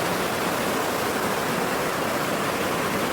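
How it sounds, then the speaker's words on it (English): Mountain snow runoff rushing along Still River, a loud, dense, continuous roar of flowing water with no voices. "But this is pure mountain snow runoff."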